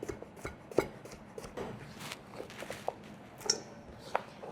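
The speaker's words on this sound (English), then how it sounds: "We're just gonna cut him in half. Just cut him on an angle." A knife slices a cucumber in half at an angle on a cutting board, several crisp chopping taps spaced irregularly over a few seconds, close and fairly clear.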